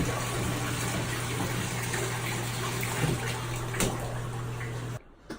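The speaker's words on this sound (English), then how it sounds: "So now we're pouring the cooled wort into our bucket" Cooled beer wort for a home-brewed blonde ale pours in a steady gushing stream into a bucket, a close, continuous rush of liquid under a low hum that stops abruptly near the end.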